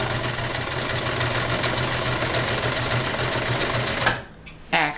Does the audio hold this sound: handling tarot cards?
no